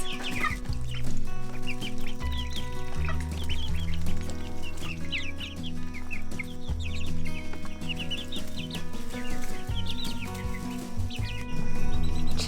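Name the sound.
chickens clucking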